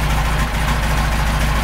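A car engine idles from a cold start, a steady low rumble with even harmonic pulsing that holds constant and close throughout, with no voices.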